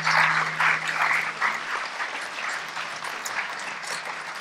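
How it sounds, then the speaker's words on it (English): A room full of audience members at a Doctor Who question-and-answer event applauds; dense, sustained clapping is loudest at the start and then settles to an even, continuous patter, with a low hum briefly beneath. "Let's give Luke a round of applause."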